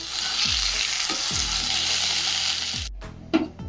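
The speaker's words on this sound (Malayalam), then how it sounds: "ഇപ്പോൾ വറുത്തെടുക്കാം. ഇത് പൊടിക്കണം." Coriander and other spices crackle and sizzle while roasting in a hot pan, a close steady hiss with a few low knocks and a brief clatter near the end.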